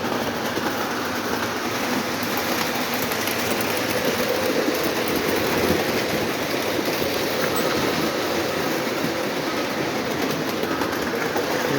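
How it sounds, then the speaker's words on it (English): Three Lionel model steam trains circle a toy track at once with a steady, moderately quiet rolling rumble and clatter. The sound runs continuously without a break. "We have 3 trains going around at the same time."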